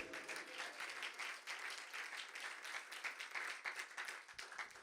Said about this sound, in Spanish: ¿Cuánto le puede dar un aplauso al Señor?